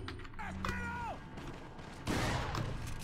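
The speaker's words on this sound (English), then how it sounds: "shotgun these guys" Shotgun blasts aimed at a cluster of enemies in the video game Resident Evil 4, with a loud, sharp boom near the end cutting through mechanical clicks and game noise.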